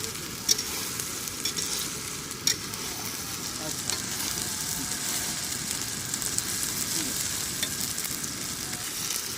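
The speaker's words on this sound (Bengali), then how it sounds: "যতক্ষণ পর্যন্ত মশলাটা ভালো মতো রান্না হবে না ততক্ষণ পর্যন্ত নেড়ে চেড়ে যেতে হবে" Spice paste of ginger and garlic being stirred and fried for a mutton curry, a steady faint sizzle with scattered scraping clicks of the spoon against the pan and no speech.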